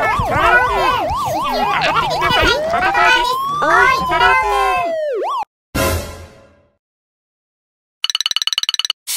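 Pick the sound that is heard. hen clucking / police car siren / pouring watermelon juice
police car siren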